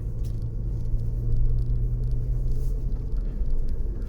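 A vehicle rolls onto a sandy beach entrance on winter sand that is usually hard-packed, its engine giving a steady, close, low rumble with a faint hum and no talking.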